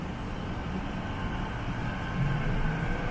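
A train carries riders from Vancouver Airport to downtown Vancouver, its cabin giving off a steady low rumble and rolling hiss of wheels on rails, continuous and close, with no talk.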